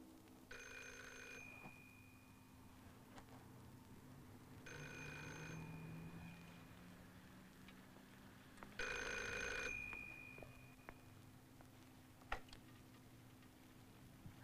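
An old telephone bell rings in three separate bursts with pauses between them, fairly quiet, in a room with faint ticking and no talk.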